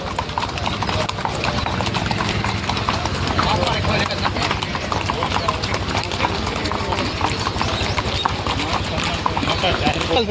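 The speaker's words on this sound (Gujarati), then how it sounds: "આ રીતના વોર્મવોક કરાવવું ખૂબ જ જરૂરી હોય છે ઘોડાઓને" Several horses on a morning warm-up walk along the edge of Hamirsar Lake, hooves clip-clopping in a steady overlapping rhythm, with people talking underneath.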